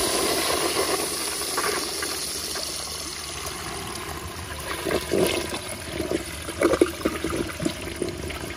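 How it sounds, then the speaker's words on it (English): A NOS URC Colby urinal flushes up close with a steady rushing hiss of water that runs the whole time, swelling into gurgling splashes near the end as the weak siphon pulls. "So now I'm gonna give you all a close-up flush like this."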